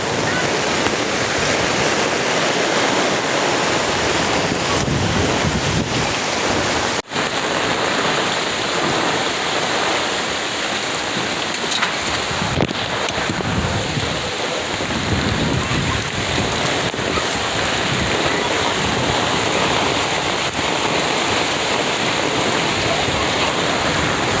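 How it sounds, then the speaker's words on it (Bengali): Heavy rain pours down hard during a severe storm, a loud, dense, unbroken hiss of water striking surfaces that runs throughout, with a brief sharp knock partway through. "বৃষ্টি উপর থেকে এত জোরে পড়তেছে যে ছাতা অবস্থায় আমাকে ভিজে যেতে হচ্ছে"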